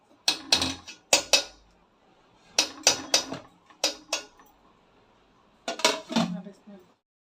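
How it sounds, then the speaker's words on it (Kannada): A metal idli steamer pot being set down on a stove while preparing sago idli: clusters of sharp metallic clanks and clinks in several bursts, close and fairly loud, with quiet pauses between them. "ಇವಾಗ ಇಡ್ಲಿ ಮಾಡೋದಕ್ಕೆ ನಾನು ಇಡ್ಲಿ ಪಾತ್ರೆನ ಬಂದು ಇಲ್ಲಿ ಒಲೆ ಮೇಲೆ ಇಡ್ತಾ ಇದ್ದೀನಿ"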